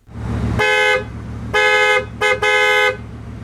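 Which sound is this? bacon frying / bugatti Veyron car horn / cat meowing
bugatti Veyron car horn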